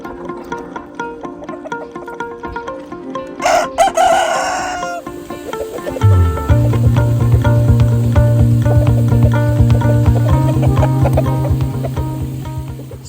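A rooster crows loudly near a chicken yard on a homestead, with hens clucking around it and other fowl calling in a busy, continuous farmyard chorus.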